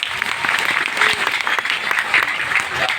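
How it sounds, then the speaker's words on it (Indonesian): A crowd claps for a man at a lively Indonesian religious gathering. The applause is loud, busy and continuous, with individual claps standing out against the mass of sound. "Tepuk tangan untuk Pak Diri"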